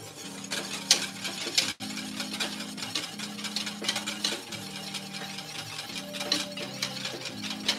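A sauce is whisked in a pot, with quick rhythmic metallic scraping and clinking against the pot under a low steady background hum. There is one sharp clank near the start.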